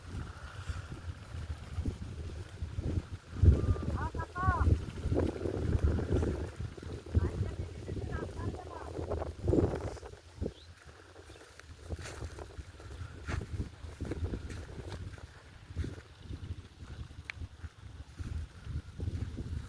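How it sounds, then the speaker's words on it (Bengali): Strong wind blows across an open field of onion and wheat crops, roaring and buffeting the microphone in uneven gusts, with a few faint background sounds mixed in. "বাতাস হচ্ছে, প্রচুর বাতাস মাঠে।"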